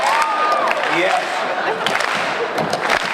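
An audience at a 2017 San Diego Comic-Con panel claps and cheers in a dense, continuous crowd sound, with voices talking over it.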